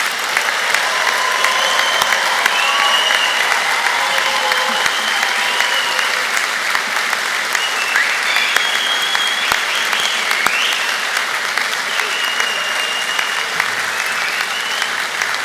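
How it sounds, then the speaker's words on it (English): Graduates at a Glasgow Caledonian University graduation ceremony rise to clap and cheer for their family and friends, a loud, dense wall of applause from a large hall crowd that sustains steadily throughout, with scattered whoops above it. "I'd like you to stand up this time to applaud and cheer and show your family and friends just how much you appreciate them"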